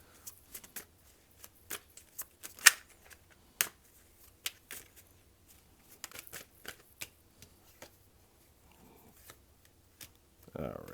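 Tarot cards being drawn and handled: scattered soft flicks, snaps and shuffles of cards at irregular intervals, quiet and close, with brief gaps of near silence between them.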